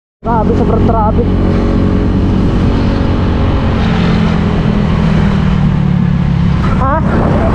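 Dense, heavy road traffic on a rural road in Mangatarem, with a constant loud roar of car and motorcycle engines passing close by, steady throughout, while voices speak over it.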